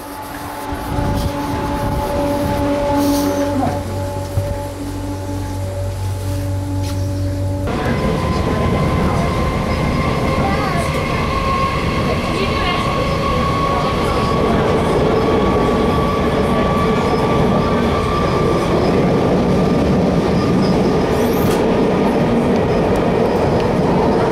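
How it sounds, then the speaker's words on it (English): A train gets under way and rolls steadily, a loud continuous rumble of railcars on track with a low steady hum, building slightly as it moves and persisting throughout without speech. "Well, here is the train."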